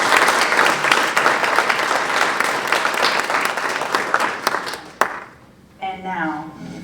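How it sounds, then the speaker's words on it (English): At a high school poetry recitation regional final, an audience claps loudly and steadily for a performer; the applause fades after about five seconds and a speaker's voice follows. "Let's give a round of applause for William."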